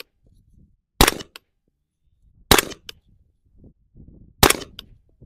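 Subsonic 300 Blackout rifle rounds fired at a target 100 yards away: three sharp, separate reports spaced over a second apart, each with a short tail, with faint low rustling between shots.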